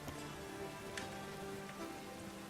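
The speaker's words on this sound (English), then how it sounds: "All this rain we're getting?" Light rain falls steadily in The Witcher 3: Wild Hunt, a soft continuous patter with a few sharper drops, faint and with no voices.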